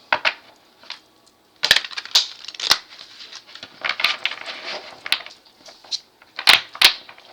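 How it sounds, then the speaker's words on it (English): A deck of cards being shuffled in several quick riffling bursts with short pauses between, close and crisp, no voices. "one more shuffle, y'all"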